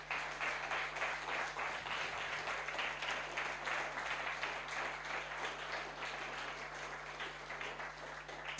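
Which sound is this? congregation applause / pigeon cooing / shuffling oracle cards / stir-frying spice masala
congregation applause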